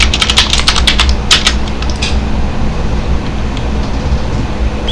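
A burst of quick keystrokes on a computer keyboard while entering the cd command, clustered clicks near the start that thin out to a few isolated taps over a low steady background hum.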